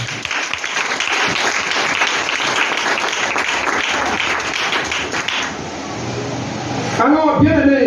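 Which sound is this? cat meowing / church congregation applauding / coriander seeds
church congregation applauding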